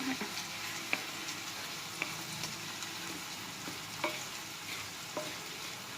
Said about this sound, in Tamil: எண்ணெயெல்லாம் சேர்க்கலை, வெறும் ரவாவை மட்டும் போட்டு வறுத்துக்கிட்டு இருக்கேன்